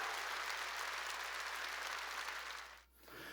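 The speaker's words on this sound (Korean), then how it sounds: "박수 치라니까요." Clapping fills a church service at Sunday worship, a steady, dense burst from the whole congregation that cuts off abruptly near the end before a quieter trailing patter.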